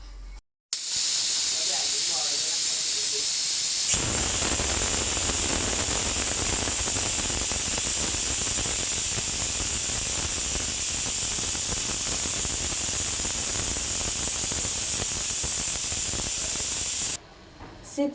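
A pressure cooker cooking dal with tomato lets out a loud, steady whistling hiss of venting steam that holds for about thirteen seconds before cutting off abruptly.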